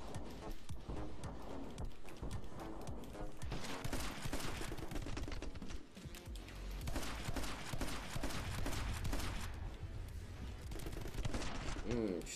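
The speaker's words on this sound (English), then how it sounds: "Bring out the shotgun for him." Shotgun fire in a video game: dense bursts of blasts and rapid gunfire layered over loud, busy game sound, with people talking over the action.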